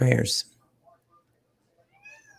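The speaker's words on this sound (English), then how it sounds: "And now the cat wants to talk." A house cat meows in a quick, loud burst right at the start, then lets out a few faint, thin calls in an otherwise quiet room.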